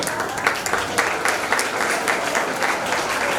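Dense, steady audience applause at a Tamil cleanliness and hygiene event, loud and continuous from start to finish with no voices over it.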